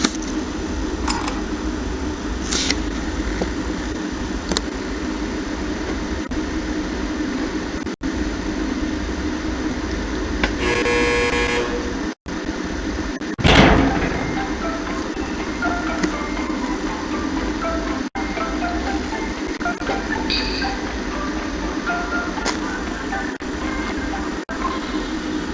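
An elevator moving in Five Nights at Freddy's: Sister Location, a steady low mechanical rumble and hum running throughout, broken by a few brief clunks and a sharp jolt midway.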